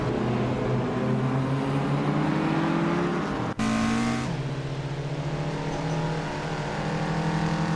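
A 1985 Lancia Delta racing car in a racing video game, its engine droning steadily with rising pitch sweeps as it accelerates, a brief cut midway, then continuing loud and close with no talk.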